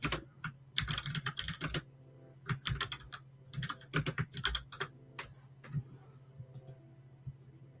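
Rapid typing on a computer keyboard, clattering in quick irregular bursts of keystrokes with short pauses, close and fairly quiet, with no voices.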